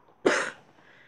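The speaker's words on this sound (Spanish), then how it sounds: "Fue un ataque de tos." A single sharp cough, close and abrupt, followed by a brief fading breath.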